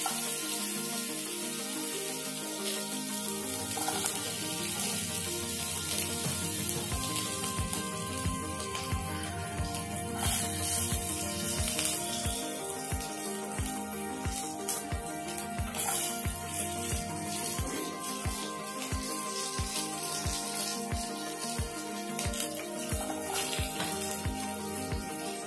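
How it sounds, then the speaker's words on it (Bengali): Garlic sizzling in hot oil seasoned with turmeric and salt while cooking veg manchurian, a steady crackling fry with background music over it throughout. "তেলে হলুদ আর নুন দিয়ে দেওয়ার পর আমি রসুনগুলো দিয়ে দিচ্ছি।"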